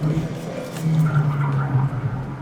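A racing car in a sim game brakes into a corner without trail braking, its engine note droning low while the tyres squeal steadily underneath. The sound is continuous and moderately loud, with faint talk over it.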